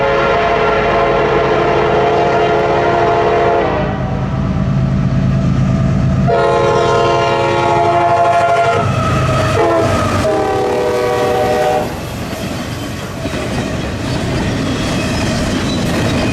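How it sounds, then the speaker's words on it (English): A GE Evolution locomotive on a passing coal train sounds a loud, oddly pitched multi-chime horn in several long blasts over the steady rumble and clatter of the rail cars. "The GEVO also had a really weird horn."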